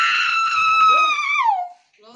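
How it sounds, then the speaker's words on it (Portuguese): A voice screams in one long, loud, sustained cry that bends downward and breaks off, followed by a faint sound after a brief silence. "o grito que ela vai dar"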